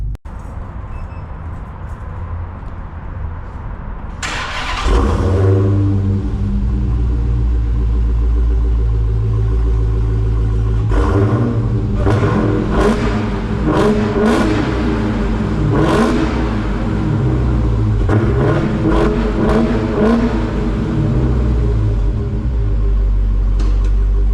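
A 2020 Dodge Challenger Daytona Hellcat on the move in a parking garage, its engine settling into a loud, deep steady rumble after a quiet start, with repeated throttle swells and revs rising over the drone.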